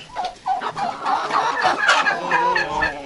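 Farmyard turkey hens and other fowl cluck and chatter continuously, a busy overlapping mix of close, fairly loud calls with no talking.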